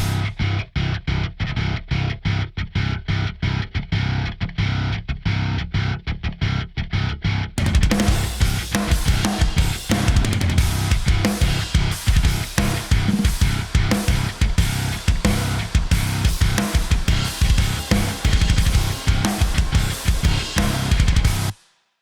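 A metal riff from the Archetype Misha amp plugin, with heavily distorted bass and drums: sparse chugging hits open, then the full band crashes in with dense, loud, driving rhythmic chugs until an abrupt stop.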